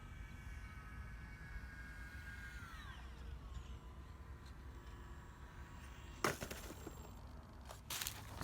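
A model Spitfire airplane flies in to land, its engine a steady whine that drops in pitch as it throttles back, followed near the end by a couple of loud bumps and rattles as it touches down.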